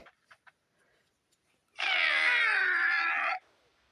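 A children's toy trumpet gives a single sustained, reedy, squawking honk of roughly a second and a half, loud and steady, preceded by a few faint clicks and taps.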